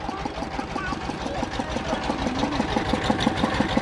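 Juice machine motor running at a small roadside juice stall, a steady whirring, rattling drone with a rapid regular pulse, loud and close throughout, with people talking faintly underneath.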